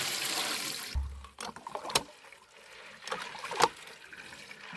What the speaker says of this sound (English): rinse the beans thoroughly in water several times